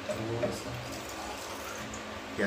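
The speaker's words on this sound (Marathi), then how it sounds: "थोडंसं पाणी भरलं, थोडं मीठ टाकतो" Water is poured into an empty bottle indoors late at night: a steady, close, hissing pour that runs unbroken for about two seconds, with a small splash near the end.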